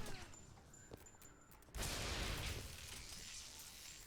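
A heavy sniper rifle shot booms in Bioshock Infinite's Shantytown, a sudden loud blast with a long rumbling tail that follows a stretch of quieter ambience and scattered small pops.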